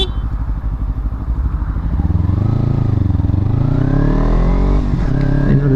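A motorcycle fitted with a slip-on exhaust revs up loudly, rising in pitch as it accelerates with a throaty, rumbling exhaust note, close by.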